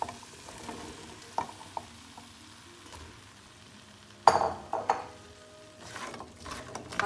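Potatoes and green onion frying together in a pan, stirred through with a soft steady sizzle, a few sharp scrapes and clinks of the utensil against the metal, close by with no talking.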